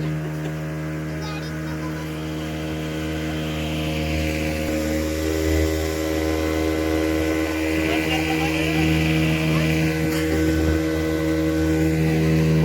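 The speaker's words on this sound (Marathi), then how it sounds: "इंजिन चालू झालंय आणि बोट परत चालली." Steady droning motorboat engine running as the boat moves on water, loud and close with a constant hum that swells slightly over time; faint voices sit beneath it.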